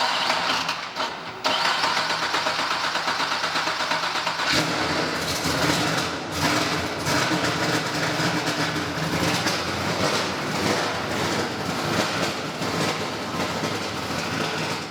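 A car engine on a dyno starts and revs steadily, a loud continuous roar with rising and falling throttle that briefly struggles to hold idle.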